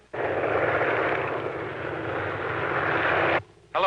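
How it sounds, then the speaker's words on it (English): A propeller airplane circling overhead drones loudly and continuously for over three seconds, then cuts off abruptly before a short burst returns. "Listen, Elmer, you're going to have to circle around a few times"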